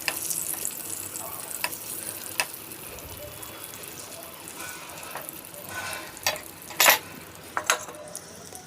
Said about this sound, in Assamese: আকৌ নেক্সট পিঠিটো ভাজি লৈছোঁ